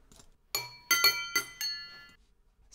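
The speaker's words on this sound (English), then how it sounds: "It's the wind chime tune." Bright glassy clinks of a wind chime tune, a handful of ringing strikes in an uneven rhythm that decay quickly, close and alone with no talking.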